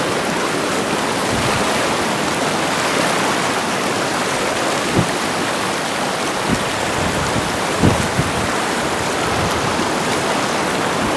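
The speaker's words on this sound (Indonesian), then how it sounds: "Harus melewati aliran sungai seperti ini." A river stream flows steadily with a dense, loud rushing wash, with a few faint knocks under the water noise.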